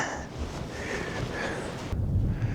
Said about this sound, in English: It started becoming windy now.